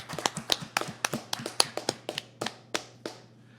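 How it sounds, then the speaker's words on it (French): A small audience applauds with sparse, scattered claps that come in uneven bursts and thin out over a few seconds, quiet and close. "Main d'applaudissements, s'il vous plaît."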